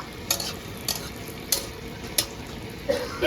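Phuchka puris fry and puff in hot oil while oil is spooned over them, a steady sizzle broken by sharp periodic scraping clinks of a utensil against the pan.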